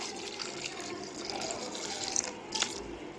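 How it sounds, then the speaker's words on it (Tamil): Water poured from a cup into tomato and moong dal kootu in a pressure cooker, a steady soft splashing and trickling pour lasting about three seconds, close and fairly quiet. "ஒரு ஒரு கப் அளவுக்கு தண்ணி சேர்த்துக்கலாம்"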